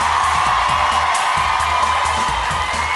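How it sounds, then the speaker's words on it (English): A studio audience at a live Big Brother eviction show cheers and whoops for Vanessa, a dense, steady roar of crowd noise filling the space without a break. "can we give a warm round of applause to Vanessa?"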